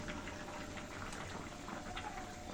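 Curry water for a soybean curry bubbles in a wok as a faint, continuous simmering burble, with no voices.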